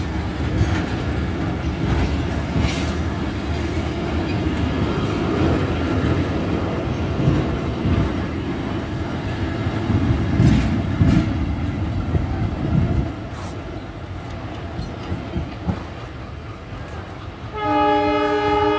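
A passenger train pulls out of a Bangladeshi station with a loud, continuous rumble and rattling wheels close by, fading slightly before a long horn sounds near the end.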